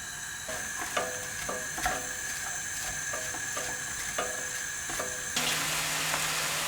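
Chopped onion cooks in oil in a pan for an onion pie, giving a steady close sizzle broken by scraping stir clicks. Near the end the hiss grows louder and brighter as more fat goes in.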